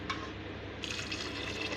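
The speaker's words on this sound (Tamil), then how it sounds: "அதில் கொஞ்சம் தண்ணி ஊற்றி வேக வச்சிடலாங்க." Water pours into a cooking pot while making a Tamil greens kadayal, a soft, quiet, continuous splashing fill heard close and alone.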